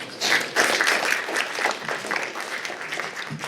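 Applause from an academic panel audience, a dense patter of many clapping hands that swells quickly and holds steady at a moderate level, fairly close in a hall.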